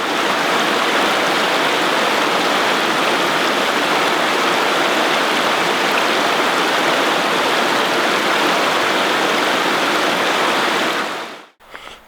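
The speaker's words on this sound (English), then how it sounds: "let's go and have a look at the river." A river stream at a swimming spot in Hawke's Bay flows steadily, a dense broadband rush of water heard close and constant before cutting off abruptly at the end.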